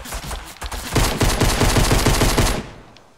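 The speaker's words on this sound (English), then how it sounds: "I got someone shooting at me all freaking ready." Loud, rapid automatic gunfire in the video game Fortnite, a close burst of evenly spaced shots lasting about two seconds before cutting off.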